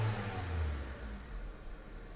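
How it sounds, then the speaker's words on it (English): Snap throttle revving from a 2005 Honda Civic engine being checked for misfire and low power: a low engine note swells in one quick rev near the start, then settles back to a steady idle rumble, close and fairly quiet. "So I'm just going to give it a few snaps."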